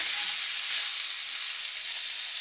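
Red chilli powder and turmeric sautéing in hot oil in a pan for a bhindi chicken curry, a steady close bright sizzle with no talk over it.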